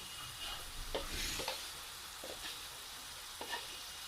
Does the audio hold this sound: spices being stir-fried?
yes